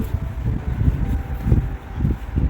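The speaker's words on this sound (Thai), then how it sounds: "หนาวลม ลมแรง" Strong, cold wind at an outdoor children's playground buffets the microphone with a steady, close, low rumble that gusts and swells unevenly throughout.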